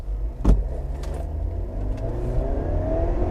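A 2021 Ford Explorer's 2.3-litre 300-horsepower engine revs up hard at full throttle and keeps pulling, its pitch climbing steadily after a sharp thump, loud and close.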